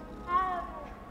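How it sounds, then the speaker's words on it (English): A cat gives a single short meow in the video game Hogwarts Legacy, soft and close, over a quiet background. "Pretty kitty."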